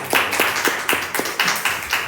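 A small group of students claps in a lecture room, a short burst of roughly regular, fairly close claps with no talking over it.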